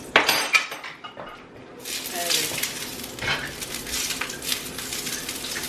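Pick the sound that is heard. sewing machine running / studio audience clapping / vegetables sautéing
vegetables sautéing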